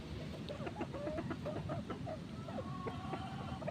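A hen being held in someone's hands gives a run of soft, close clucks and short calls over a steady low background, with no talk; the bird is a laying hen with scaly-leg lesions and a growth below the knee.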